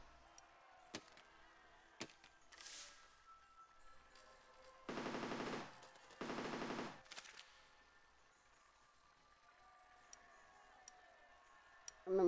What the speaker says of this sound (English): My machine gun is aiming too high, so let's put it at the bottom.